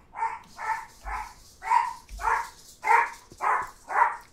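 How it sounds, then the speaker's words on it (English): A dog barks eight times at an even, steady pace, each bark loud and close, with no talking over it; it sounds during a medieval survival game session. "Sorry about the dog."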